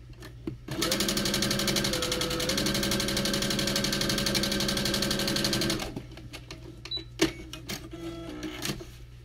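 Sewing machine stitching quilt fabric, a fast steady buzzing run of about five seconds at close range, then a few clicks and handling noises as it stops.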